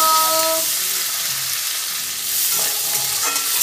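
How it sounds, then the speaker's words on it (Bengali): Chopped tomatoes go into a pan of fried onions during a mustard rui fish curry, giving a loud, steady broadband sizzle with a few stirring scrapes that continues alone throughout. "এইবার পেঁয়াজ ভাজা হয়ে গেছে, এবার দিয়ে দিলাম টমেটো"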